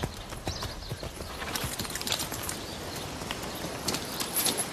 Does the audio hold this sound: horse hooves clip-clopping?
yes